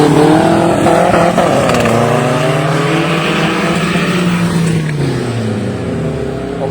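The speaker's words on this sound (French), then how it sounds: "Encore une voiture radicale qui arrive." A radical competition race car arrives at a 200 m run battle event, its engine roaring loudly and steadily as it draws near, the pitch sweeping down and then climbing again.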